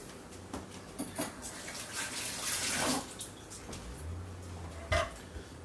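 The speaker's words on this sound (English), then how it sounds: "Give everything a rinse." Lettuce is rinsed in a bowl under a running kitchen tap, giving a steady splashing flow of water with a few soft knocks and a brief burp-like sound, heard close up.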